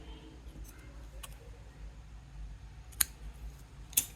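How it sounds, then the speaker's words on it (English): Scissors snip crochet thread with two crisp, close cuts about a second apart near the end, after a couple of fainter handling clicks in a quiet room. "and now I will cut the thread."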